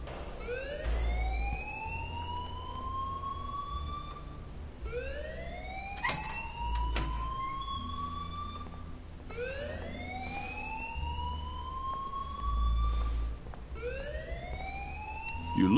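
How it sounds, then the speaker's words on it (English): School alarm in the video game Life Is Strange, a loud electronic wail that rises in pitch and repeats about every five seconds, four cycles sounding alone with no talk. "please turn off that alarm since that's your job"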